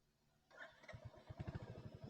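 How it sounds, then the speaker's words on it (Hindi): A Royal Enfield Hunter 350 motorcycle engine cranks and catches, then settles into a quick, steady thumping idle, heard fairly quiet and close. "स्टार्ट करते हैं इसे।"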